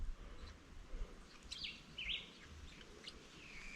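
Black and white birds with woodpecker-shaped heads call outdoors on a scorching hot day, giving a few faint, distant chirps and short whistled notes over a low background hiss.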